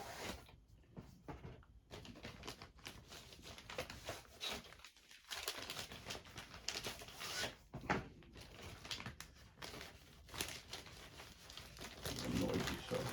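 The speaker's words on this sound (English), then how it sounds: "They came in a plastic bag and it's a little tricky to get it out." Intermittent crinkling and rustling of a plastic bag holding Dust Tactics miniatures being handled, with soft bumps and brief pauses, fairly quiet and close.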